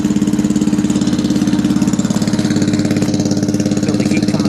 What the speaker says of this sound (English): This is what we do for starting procedure on any tractor or lawnmower in the shop